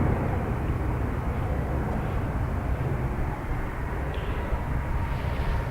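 A Ryanair flight bound for Amsterdam takes off from Dublin Airport, its jet engines a steady, broad, loud roar held at constant strength throughout, with no voices.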